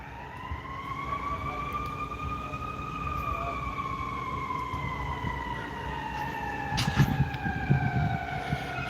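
An emergency vehicle siren wails with slow rising and falling tones at a pier water rescue on a beach, fairly distant and continuous over low background rumble and wind.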